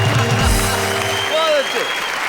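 An audience applauds after a comic Hindi poem at a poetry show, a dense burst of clapping that rises and then thins out, heard over fading voices.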